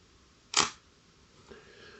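A Russian film camera fires its shutter at 1/50 second, one sharp, close mechanical click followed by a faint softer clatter in a quiet room.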